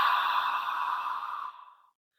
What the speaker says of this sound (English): this particular one is done by making a slight glottal contraction in the back of the throat